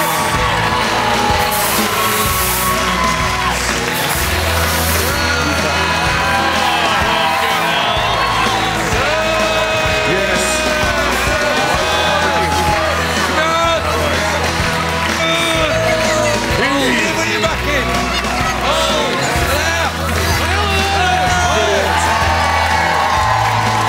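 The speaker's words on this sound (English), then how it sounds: "keep the applause going, ladies and gentlemen, as he comes in" Studio audience at a Red Nose Day comedy show greets Peter Kay's entrance with loud, sustained cheering, whooping and clapping that fills the whole stretch without letup.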